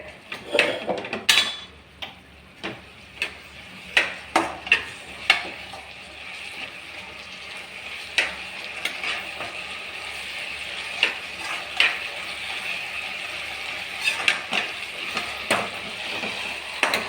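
Murungai keerai sambar rice being mixed in a metal pan after turmeric and asafoetida go in. A spoon clinks and scrapes against the pan in irregular taps over a faint, steady sizzle, with no talking.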